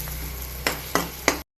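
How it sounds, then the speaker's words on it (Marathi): Red chili powder, turmeric and salt roasting in a pan, a soft steady sizzle broken by three sharp stirring scrapes near the end before it cuts off. "लाल तिखट, हळद आणि मीठ हे मसाले टाकणार आणि हे मसाले पण चांगले भाजून घ्या"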